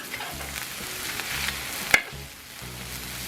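Egg is stir-fried in bacon fat for fried rice, with a close, steady sizzle, intermittent scraping stir strokes and one sharp clack of utensil on pan partway through, no talking.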